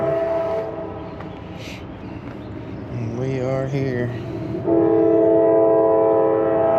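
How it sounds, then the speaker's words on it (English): A train passes near a park trail in Dayton, Ohio, with a rumbling approach under brief talk, then a loud, sustained horn blast that rises in the final seconds. "I didn't know there was a train nearby."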